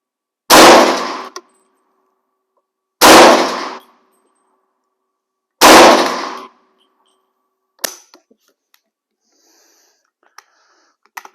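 US M1 Carbine rifle fired outdoors, three loud sharp shots evenly spaced about two and a half seconds apart, followed by faint clinks and rustling.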